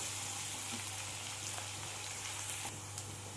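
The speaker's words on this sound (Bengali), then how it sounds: "এবার পেঁয়াজটা আমি 2-3 মিনিটের মতো ভেজে নেব।" Sliced onion frying in oil for a tilapia fish dish produces a soft, even crackling sizzle, faint and constant with a few small pops and no talking.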